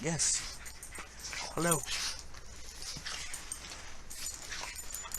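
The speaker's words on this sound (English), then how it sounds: "Sorry about my obnoxious dogs." Several dogs whimpering and yipping for attention indoors, a few short high whines near the start and middle, close and moderately loud, with a person talking briefly over them.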